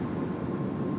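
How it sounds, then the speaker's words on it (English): An Airbus A350 airliner rolling for takeoff on runway 16 right at Tokyo Haneda, a steady broad engine roar held at a constant level, fairly distant and without breaks. "Just rolling now on runway 16 right is the Japan 915 service to Okinawa A350"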